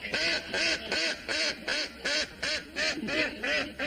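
A duck quacks repeatedly and loudly up close, a steady series of about ten nasal quacks in an even rhythm with no pauses between calls.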